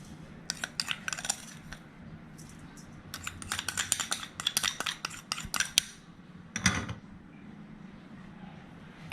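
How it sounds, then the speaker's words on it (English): A spoon stirs sugar and salt together in a bowl while preparing lor mai gai. Close, irregular clinks and scrapes come in quick bursts, with no talking. "I'm just going to move it around with a spoon"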